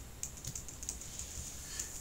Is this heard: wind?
no